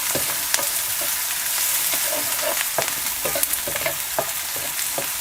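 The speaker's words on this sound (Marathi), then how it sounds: "चांगलासा लालसर होतपर्यंत आपल्याला हे कांदा परतून घ्यायचा" Chopped onion sautés in hot oil in a pan for paneer masala, a steady close sizzle broken by repeated sharp scrapes and knocks of a spatula stirring, with no talking.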